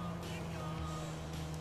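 A car drives by in the video game Watch Dogs, a steady engine drone mixed into a busy game soundscape.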